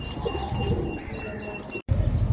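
Pigeons coo softly in a flock kept for flight training, a golden pigeon among them, with mid-distance calls over faint ambient noise and a brief dropout near the end.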